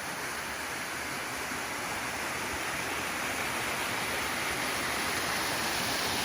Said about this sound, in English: just sort of a series of little cascades, but quite pretty